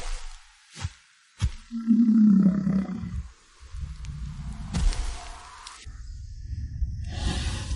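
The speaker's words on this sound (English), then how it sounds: "Black wolves. I hear at least 6." Growls and roars of a pack of black wolves, a storm alpha among them, in a dramatic animated fantasy scene: a deep rumbling snarl swells loudly, then trails into lower growls and whooshing effects.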